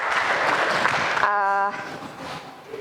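Brief burst of classroom applause from students, dense and fairly loud, cut off by a sharp electronic tone before quieter room noise follows.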